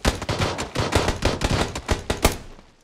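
Rapid automatic gunfire in the video game PUBG, a burst of about a dozen sharp, loud shots in quick succession, fading out at the end with no voices over it.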